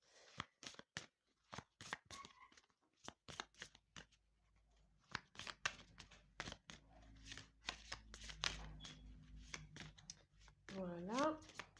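Oracle cards are shuffled and handled in sharp, irregular bursts of slaps and riffles, close and quiet, with a voice talking intermittently in the background toward the end.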